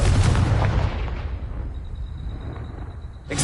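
Confringo blasting spell explodes in Hogwarts Legacy with a loud booming burst that decays into a lingering rumble and faint ringing tone, then a second blast begins at the end.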